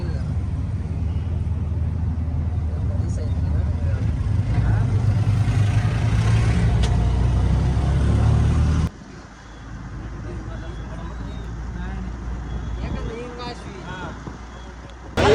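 An auto rickshaw carries passengers through Delhi traffic at night toward India Gate, its engine and road noise rumbling steadily throughout while people talk over it.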